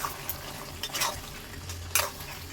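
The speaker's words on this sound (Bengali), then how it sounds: "এইভাবে নেড়ে ছেড়ে সুন্দরভাবে কষে নেবো" Meat and Malabar spinach being stirred in a pan, with soft scraping strokes and a few sharper clinks of the spoon against the pan over a low sizzle, fairly close and with no voices.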